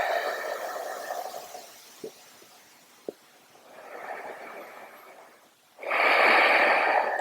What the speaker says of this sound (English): Couple more deep breaths here.